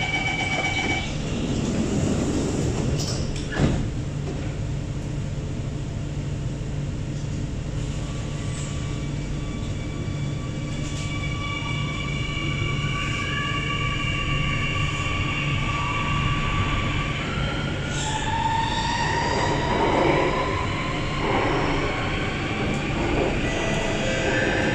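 An SMRT C830C metro train on the Singapore line between Harbourfront and Dhoby Ghaut closes its doors and pulls away, with a steady loud motor hum and rising whine under constant rumble, heard close from inside the car.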